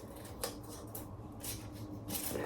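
Scissors cut gently through paper being trimmed to the size of a peel-and-stick tile, giving soft, close snips and rustles with a few brighter crisp cuts over a faint background hiss.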